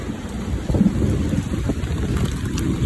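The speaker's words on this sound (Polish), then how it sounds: "Niech pada, podlewa tutaj roślinki." Heavy rain pours steadily in a tropical Cambodian setting, with low rumbles of thunder rolling underneath a dense, continuous hiss of drops close by.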